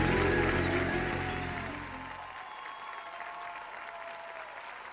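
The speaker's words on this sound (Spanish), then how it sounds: "El aplauso" Audience applause following a tango competition performance at the 2021 world tango championship, loud and dense at first, then thinning and fading over the last few seconds, with no talk.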